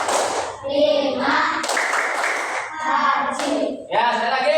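Children clap in rhythm for a classroom clapping chant in a fourth-grade class, a run of sharp, close hand claps with brief pauses and children's voices mixed in.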